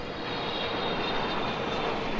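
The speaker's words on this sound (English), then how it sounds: "Another plane goes over." A steady broadband engine roar of an airplane passing overhead, constant and fairly distant, filling the whole stretch with no voices.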